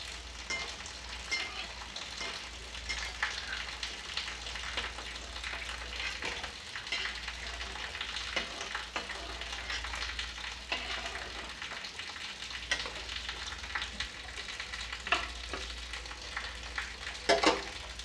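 Soybean koftas frying in a pan of oil, a steady close sizzle and bubbling that runs throughout with occasional small pops and crackles, no voices.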